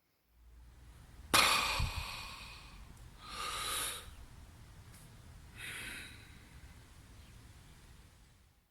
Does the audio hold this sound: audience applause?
no